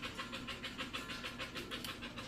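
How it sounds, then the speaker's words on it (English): Steady, rhythmic panting from a dog just back from a run, a faint, continuous huffing pattern heard throughout in a quiet kitchen. "you probably hear Bella panting because she just came back in for a run with my husband."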